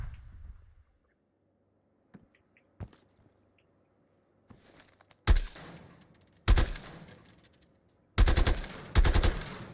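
Enemy gunfire in Call of Duty Black Ops Cold War rattles out in several loud bursts after a quiet stretch with a few isolated shots, the later volleys sharp and close.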